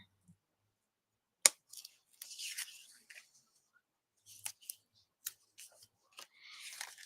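Scissors snipping through leftover paper strips from a paper pumpkin craft kit, a sharp close cut followed by a run of short, irregular snips and rustles, with no talk.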